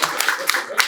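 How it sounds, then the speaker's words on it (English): A crowd at a handover speech gives a round of applause: brief, scattered claps at close range mixed with voices. "give him a round of applause."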